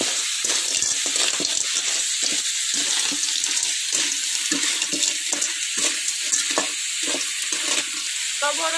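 Water is poured into a cooking pot over an outdoor village fire, a continuous bright splashing and gurgling with irregular plops and sizzling underneath.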